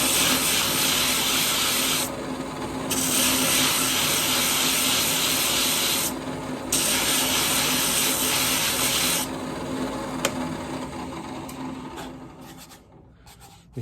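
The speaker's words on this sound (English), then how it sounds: "try to even this out a little bit with the lower grits and then move to the higher grits with my drill" A power drill fitted with a sanding disc works the bottom of a turned walnut bowl, giving a loud continuous abrasive hiss that pauses briefly twice before tapering off at the end.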